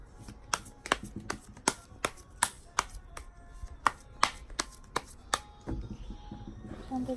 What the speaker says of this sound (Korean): 2번 카드 셔플 하겠습니다.